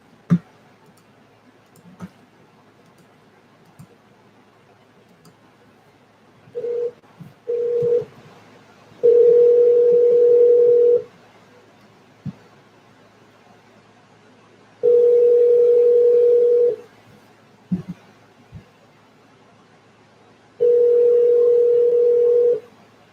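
Landline telephone with steady dial tone bursts and dialing clicks, three long loud tones separated by scattered clicks and quiet gaps.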